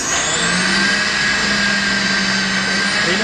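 An electric vehicle's motor spins freely with no load while the vehicle is suspended, giving a steady, loud whine with a sustained tone throughout and no speech.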